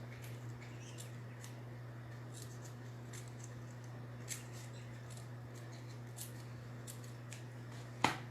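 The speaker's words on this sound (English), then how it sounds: "These are my new scissors and they're extra sharp compared to my last one" Quiet, sporadic crisp snips of new, extra-sharp scissors cutting over a low steady hum, ending with one sharper click.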